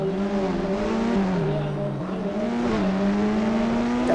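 A car engine drones in the mobile game Indian Bike Driving 3D, a loud steady synthetic tone rising and dipping as the virtual supercar accelerates and shifts, with no talking.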